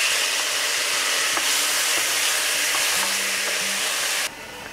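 Tomatoes tipped into a pan of browned onions for a cauliflower and green pea curry, sizzling loudly and steadily while being stirred, with scraping strokes through the fry until the hiss drops a little near the end.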